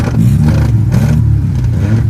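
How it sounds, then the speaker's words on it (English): A car does a burnout with its engine revving hard, a loud continuous low roar with rough scraping texture and no speech. "You doing a burnout over there?"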